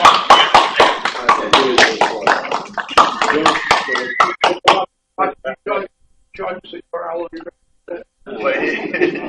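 Board meeting audience applauding, a burst of hand claps for the first few seconds that thins into scattered claps before talking and small noises take over.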